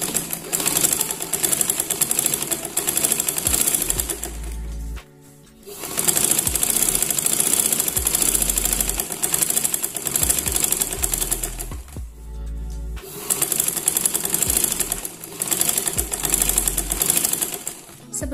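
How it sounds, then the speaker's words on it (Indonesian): Sewing machine stitching a batik skirt, a loud steady mechanical whir in three long runs with short stops between them. "Langsung saja kita jahit."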